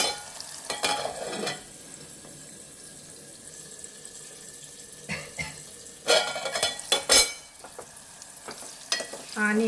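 Okra curry stirred in a pot, with bursts of spoon scraping and clattering at irregular intervals over a quiet, low background hiss; no voices.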